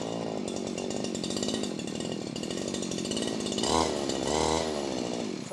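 Four-stroke grass cutter engine runs continuously with a buzzing, saw-like drone, briefly surging twice as the throttle is opened.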